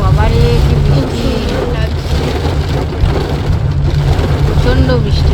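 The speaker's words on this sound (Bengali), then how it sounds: "প্রচন্ড বৃষ্টি, প্রচন্ড।" Heavy rain pours down in a steady, loud roar that fills the whole stretch, with people talking over the downpour while they are caught in rising water in Bengal.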